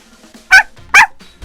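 A small dog gives two sharp, close barks about half a second apart, with quiet moments before and between.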